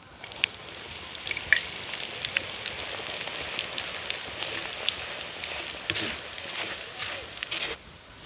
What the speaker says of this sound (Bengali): আপনারা যখন বাড়িতে চিড়ে ভাজবেন সবসময় হাই হিটে ভাজবেন।